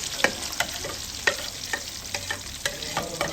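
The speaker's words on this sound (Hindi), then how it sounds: "प्याज जो है ना मैंने ऐड कर दिया, इसको अच्छे तरीके से ब्राउन करते हैं" Onions browning in oil with ginger and garlic in a pan for a fish dish, with a steady close sizzle and repeated sharp scrapes of a stirring spoon, no voices.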